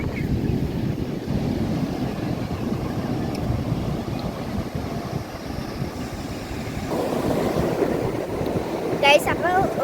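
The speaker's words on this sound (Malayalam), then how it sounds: "നമ്മളിപ്പോൾ കടലിൻ്റെ തൊട്ടടുത്താണ് നിൽക്കുന്നത്" Sea waves breaking on a beach, close by, with a continuous surf wash and wind rushing across the microphone, growing slightly stronger toward the end.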